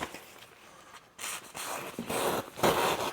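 Several short, crisp rasping swipes of a thick Infi steel knife slicing through paper, growing louder toward the end after a quiet start.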